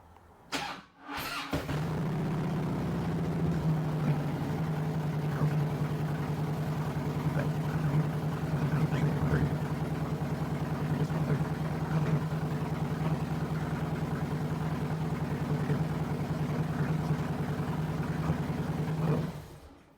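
An engine cold-starts after a brief crank, then settles into a steady, even idle that runs unbroken at moderate volume.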